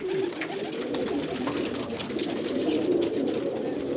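Pigeons coo steadily at a breeder's loft in Iran, a continuous low throaty cooing from several birds close by, layered with faint rustling and ambient noise and no speech.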